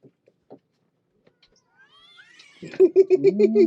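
Cats yowl and caterwaul loudly in drawn-out, wavering cries inside an RV after a few quiet taps and rustles.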